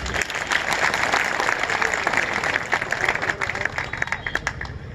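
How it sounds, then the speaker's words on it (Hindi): A crowd claps at the inauguration of a bird festival in Chhattisgarh, loud sustained applause with crisp individual claps standing out near the end, and faint voices mixed in beneath. "फिर एक बार जोरदार ताली बजाइए"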